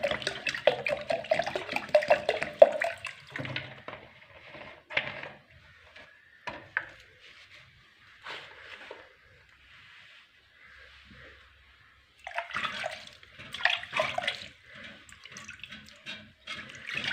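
Water poured into a bucket while kneading dough for homemade sev, splashing and trickling in uneven bursts with dripping and handling noises between, a quiet stretch in the middle, then more pouring.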